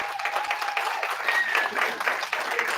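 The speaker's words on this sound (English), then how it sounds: "let's give them a round of applause" Steady applause from a crowd at an awards ceremony, many hands clapping continuously at a moderate volume throughout.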